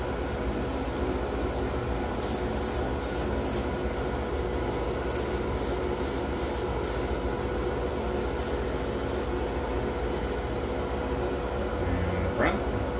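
Short bursts of aerosol spray hiss in quick groups of four onto a 1957 Cadillac Eldorado Brougham model car body, then a few fainter puffs, over a constant loud background hum.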